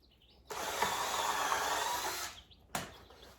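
A power drill drives screws into a farm gate being built outdoors on gravel: one long, loud, steady whir for about two seconds, then a brief second burst.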